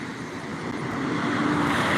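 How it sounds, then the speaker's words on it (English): Trucks drive past on a road beside someone out walking, making a steady roar of roadway noise that swells as a vehicle comes closer. "That's trucks going by and shit."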